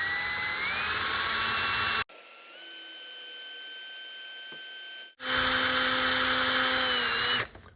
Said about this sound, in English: a little bit of oil on there, and then we're ready to start drilling